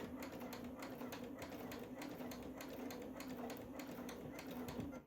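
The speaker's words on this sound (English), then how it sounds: "I'm just going to begin stitching very slowly around the perimeter" A sewing machine stitches slowly and steadily around the perimeter of a quilt, its even mechanical hum and needle rhythm running close and continuous throughout.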